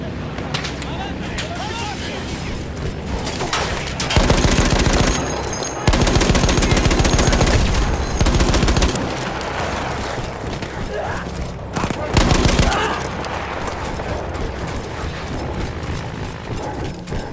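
A mounted machine gun in the World War I shooter Battlefield 1 fires loud, rapid bursts in several separate volleys, with battlefield noise and shouted voices between them.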